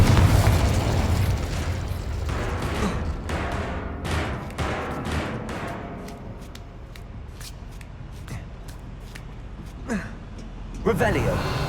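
Incendio and Confringo spells bursting in Hogwarts Legacy, a rapid series of sharp crackling pops and small blasts over a dense rumbling background, with a louder burst at the end.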